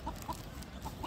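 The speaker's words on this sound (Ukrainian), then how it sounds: "Вон курица" Chickens cluck in short, bright bursts, a few spaced calls over a steady outdoor background at a riverside square near the Sich yacht club in Dnipro, moderately close.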